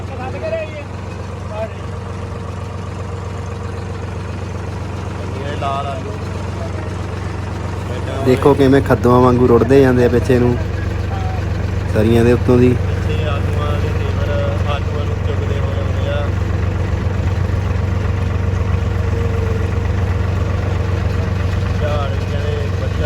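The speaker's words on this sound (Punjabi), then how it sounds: "ਟਰੈਕਟਰ ਹੈਗਾ 963 963 ਟਰੈਕਟਰ" A 963 tractor engine runs steadily at a potato harvest, holding a low, even drone for the whole stretch while people talk over it.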